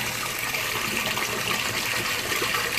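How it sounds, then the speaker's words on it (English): Steady broadband rush of water pouring into the tub of a GE Profile Harmony washing machine during filling, a continuous even hiss and gush, close and alone with no talking. "So far the water seems to be coming in at a pretty steady rate."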